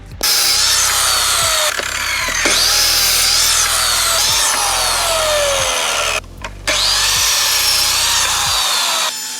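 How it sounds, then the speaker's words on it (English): A crosscut saw slices through wooden rails for raised wall panelling in a workshop, loud repeated cutting passes with brief pauses between cuts, no talking. "Right then, I'll set my crosscut saw."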